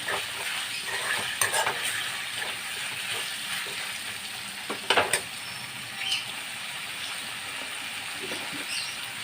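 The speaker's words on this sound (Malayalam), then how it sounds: "നന്നായിട്ടൊന്ന് മിക്സാക്കി തക്കാളി നല്ലതൊന്ന് വാട്ടിയെടുക്കണം" Tomatoes wilt in a hot pan for a beef bone biryani, a dense sizzle joined by irregular scraping stirs and a couple of sharp utensil knocks, close and without speech.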